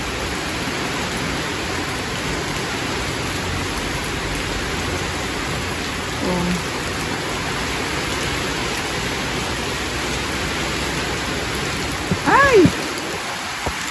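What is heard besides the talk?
rain falling outside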